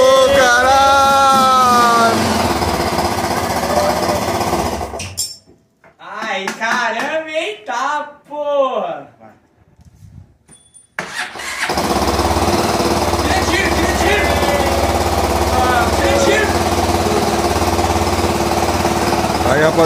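A 2003 Honda Twister motorcycle engine that sat unused for five years sputters loudly up close, drops to near silence while voices call out, then catches and keeps running with a steady, rough idle.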